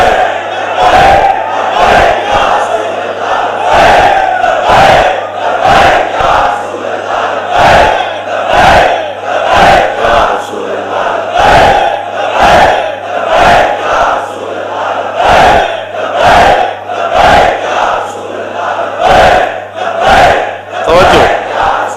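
A large crowd at a religious sermon chants slogans in a loud, regular call-and-response rhythm, with short bursts repeating roughly every second over a sustained low hum, the massed voices filling the space throughout.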